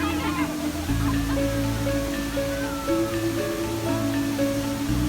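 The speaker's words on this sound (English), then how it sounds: "So this is the Tegenungan Waterfall" Tegenungan Waterfall in Bali roars as a steady, broad rush of falling water, with faint music and the distant murmur of visitors underneath.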